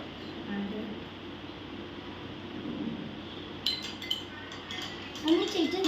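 A spoon mixing iced coffee ingredients in glasses, light clinks and taps against glass arriving in small bursts toward the end over a quiet room hum, with people talking softly.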